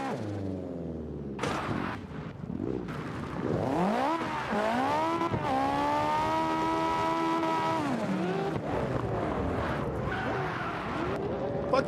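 Car tires skidding and squealing in the racing game Burnout, with a sharp screech followed by sustained rising and falling tire squeal over engine revving, fairly faint overall.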